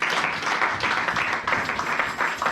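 A church congregation applauding during a sermon: steady, dense clapping from many hands at moderate loudness, lasting the whole stretch without a break.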